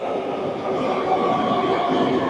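A metro train in Vietnam rumbles past close by, a loud, continuous roar of wheels and carriages with faint rail clatter throughout.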